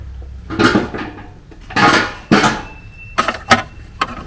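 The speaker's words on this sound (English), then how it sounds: "now you can almost hear that thing snap in." Several close plastic-and-metal clicks and rattles as an ignition coil connector on a 2004 Ford Ranger 4.0 is worked into place, scraping and then snapping, with brief pauses between the bursts.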